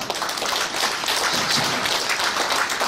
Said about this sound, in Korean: 이제 박수칠 준비해봐요.